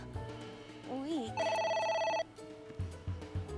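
In the game A.I.: The Somnium Files, a phone rings once in a short electronic burst over background game sounds, with a brief voice and some tones before it.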